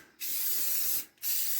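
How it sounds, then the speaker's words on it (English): Clear coat sprayed from an aerosol can onto a wooden farmhouse Mason jar toothbrush holder, two steady bursts of bright hiss separated by a short pause, close and loud with no talking. "Now I'm just going to go over this just a little bit with some of this clear coat"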